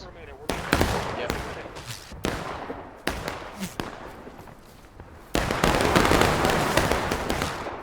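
Infantry line firing musket volleys in an American Civil War strategy video game, several loud, close ragged bursts of cracking shots in quick succession followed by a dense rolling crackle, with a voice talking now and then.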